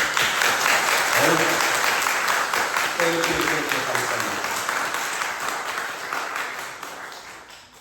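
A congregation at a Sunday church service applauds warmly for the children, with continuous dense clapping that slowly fades, and a voice speaking briefly underneath.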